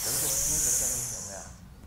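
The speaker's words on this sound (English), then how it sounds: "You breathe in and you breathe out through your teeth." A long, steady hiss of breath pushed out through the teeth, close and fairly loud, fading away near the end.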